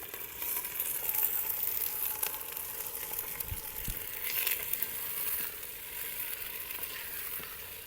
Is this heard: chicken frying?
yes